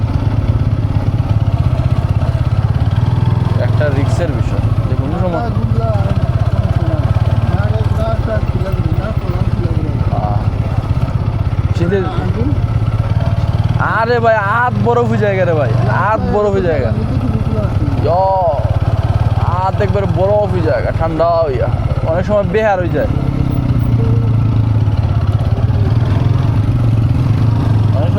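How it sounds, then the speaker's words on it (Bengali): A motorbike rides a winding dirt path through a tea garden on a cold winter day, giving a continuous low engine drone. Someone talks over the engine throughout. "শীতের দিনে বাইক দিয়ে চলাচল করা মনে করো একটা"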